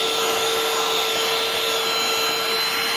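A Coslee cordless handheld vacuum cleaner runs steadily and close, a loud even whine with a fixed tone and no talk.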